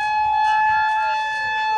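A toy ambulance gives off a loud, bright electronic siren wail, one sustained tone that sags in pitch toward the end.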